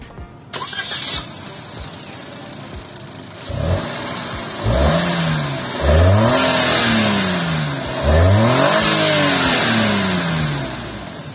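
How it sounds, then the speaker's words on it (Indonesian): A small three-cylinder non-turbo Suzuki Alto Lapin LC car engine cranks and catches, then revs up and down several times in rising and falling surges before settling, loud and close. "Sekarang kita pengen dengar suara mesinnya kayak apa sih?"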